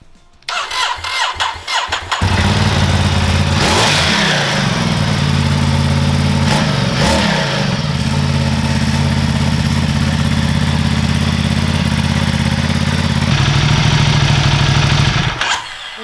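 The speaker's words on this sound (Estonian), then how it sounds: "Praegu külm mootor, siis ta käib nagu kõrgetel pööretel" Cold motorcycle engine cranking and catching, then running steadily at high idle with a loud, even mechanical drone, a few quick revs partway through, and cutting off near the end.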